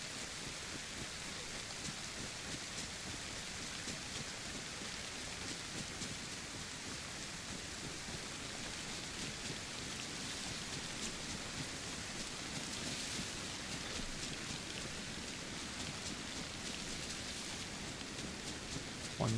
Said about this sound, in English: It always seems to be raining when I have somewhere to go in Chernarus.